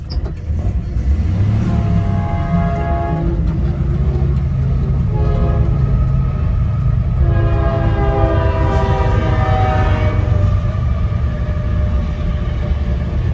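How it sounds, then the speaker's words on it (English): A loud train rumbles past close by while its horn sounds in long blasts, the heavy rolling noise continuing throughout. "Here comes the train."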